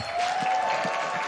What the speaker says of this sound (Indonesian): FL Arena tepuk tangan dulu dong!